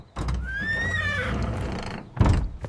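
Cartoon horses on a farm neigh in a bright, rising whinny lasting over a second, followed by a short thud of movement, with no talking.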